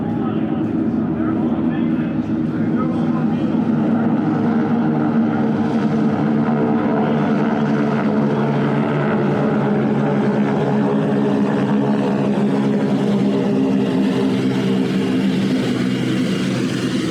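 At the AirVenture air show, a warbird aircraft's propeller engine drones steadily for the whole stretch, a continuous loud rumbling hum from a plane flying nearby.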